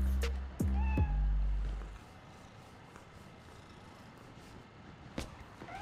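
Cat meowing in Marvel's Spider-Man: Miles Morales video game, a couple of close, loud meows in the first two seconds, followed by a quieter game ambience with one short sound near the end.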